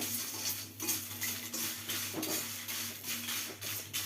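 Homemade banana chips are tossed together in a bowl, a steady, continuous rustling crunch with light clinks from a utensil.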